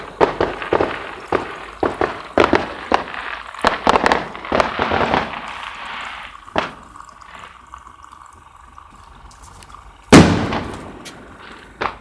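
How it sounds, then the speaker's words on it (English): Repeated sharp firework bangs and crackles, irregular bursts spread over several seconds, with a loud final blast near the end and quiet gaps between. "there's fireworks going on"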